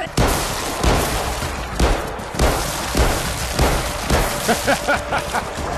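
Gunfire from a pistol in the virtual-reality zombie game Arizona Sunshine 2, a steady run of loud, sharp shots spaced roughly every half second, close and punchy, with no talk over them.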